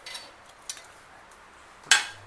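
Tava pans and cookware handled in a cookware shop: a few soft clinks and taps of metal, then one sharper ringing clatter near the end, fairly close and otherwise quiet.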